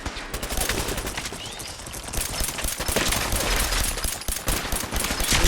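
Rapid bursts of automatic gunfire in the Fallout 4 video game, dense overlapping shots in continuous volleys with no pauses and no talk.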